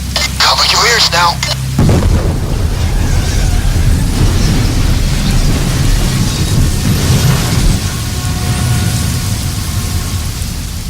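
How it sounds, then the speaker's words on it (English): A bridge blown up in the Payday 2 heist Green Bridge: a loud, sustained explosive rumble with heavy low-end roar that continues for several seconds, blending with rain in the background. "you can hear from that audio that Bane just blew up an entire bridge"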